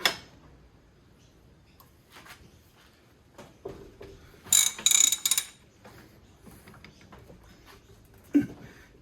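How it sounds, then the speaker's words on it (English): Short ratcheting clicks and mechanical clatter from a bench vise being lifted, with a dense burst of metallic clicking in the middle and a sharper knock near the end over quiet room noise. "I'm lifting my vise and I should be pushing down my"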